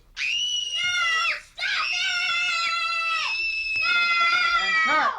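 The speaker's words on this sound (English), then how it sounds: "There's going to be a three-way screaming match." Three people scream together on the film set of Steven Spielberg's E.T., piercing high-pitched voices in a short first burst and then a long sustained second scream, loud and close.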